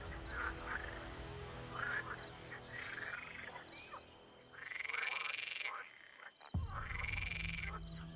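African bullfrogs croak in a Kenyan swamp, repeated deep calls in bursts with short gaps, fairly close and clear, over a busy background chorus.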